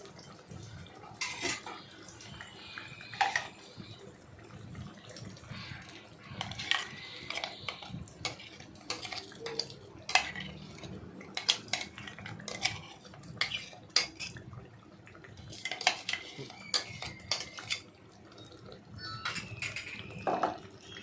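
Onion paste is fried in oil in a karahi and stirred, heard as irregular, close clinks and scrapes of a utensil against the pan, repeating throughout with no clear sizzle and no talk.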